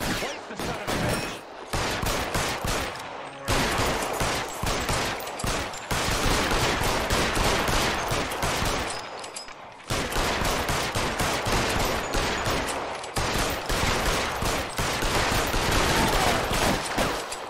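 Rapid bursts of loud, close gunfire in L.A. Noire, with dense automatic volleys repeating in clusters and short gaps between them for the whole stretch.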